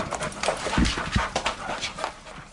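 A sniffer dog searching a house for cash, drugs and firearms pants rapidly up close, with short breathy huffs and a few soft thumps of movement.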